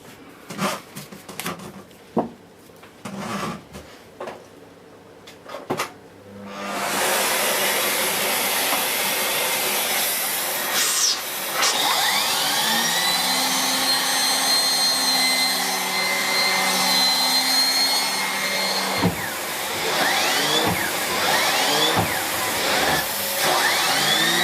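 A Miele Cat & Dog STB-205 full-size turbo brush, freshly greased and reassembled, is plugged back into its vacuum cleaner. A few handling clicks come first, then the vacuum switches on into a loud, steady whirring drone that runs to the end.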